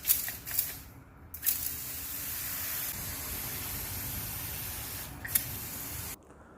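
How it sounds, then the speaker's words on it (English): Short bursts of misting from a spray bottle wetting a plant pole for climbing plants, with faint hissy spurts near the start and again later over a steady soft background hiss. "What I'm going to do now is to give it a mist to wet this pole"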